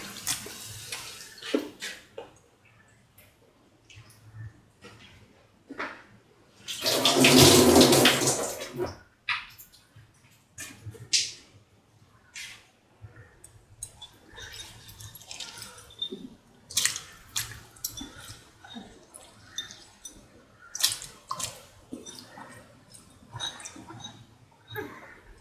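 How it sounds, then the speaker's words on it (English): Soaked and washed rice poured into a pot of boiling water, a loud burst of splashing and pouring midway, surrounded by scattered clinks, drips and light kitchen handling noises. "Now put in the soaked and washed rice"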